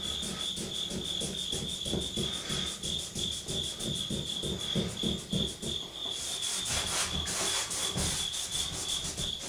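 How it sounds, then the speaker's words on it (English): Sandpaper rasps in steady back-and-forth strokes over rough wood edges on a Hoosier cabinet, close and continuous, with a constant high insect-like whine in the background and no talking. "Like right here, there's some rough edge on it there, and I'll sand on that a little bit."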